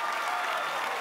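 Audience applause rings out after a rap performance on a televised stage show, a close, loud, continuous wash of clapping that holds steady for a brief moment.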